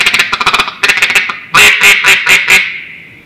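A reed duck call blown hard, giving loud, close quacking imitations of a duck: a fast run of short quacks followed by a louder string of five or six raspy, evenly spaced quacks.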